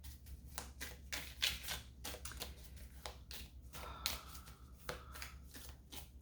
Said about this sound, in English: I just dropped a whole bunch of cards, so we're going to put those back